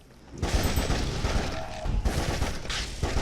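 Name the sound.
gunfire from a bolt gun in the video game Darkenstein 3D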